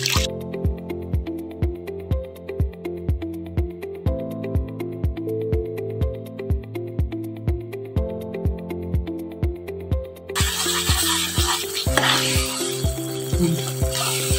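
Thick ghee khurchan barfi mixture stirred in a pan, a steady rhythmic series of scraping, squishing strokes with a soft sizzle underneath, close and continuous; the texture turns noisier and hissier near the end.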